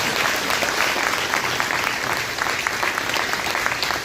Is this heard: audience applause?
yes